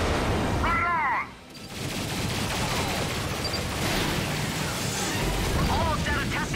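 Rapid weapon fire and rocket blasts from the video game Ratchet & Clank, a dense loud barrage running throughout with a brief dip, mixed with game speech.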